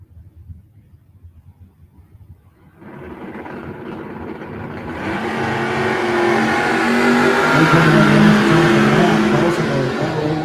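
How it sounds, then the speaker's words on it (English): Drag racing cars launch down the strip, one of them a 1979 Chevy Camaro; quiet idling gives way to a loud engine roar that swells and holds, close and strong. "And Wallace Colson out of Valdosta, Georgia, in his 79 Chevy Camaro. Right over here in the right-hand lane"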